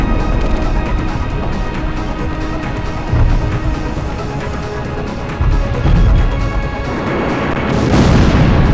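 In the Ace Combat X jet combat game, a missile strikes an enemy aircraft, and several heavy booms and blasts rise over a continuous roar of jet engines before a final swelling burst.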